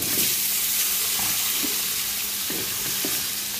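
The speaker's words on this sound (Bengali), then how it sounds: "একটু বড় সাইজের মাছ, এটা তাই মাথাটাও ভালো করে ভেজে নিচ্ছি।" A large rohu fish head fries in hot oil with a loud, continuous, close-up sizzle and occasional soft bubbling pops and stirring knocks.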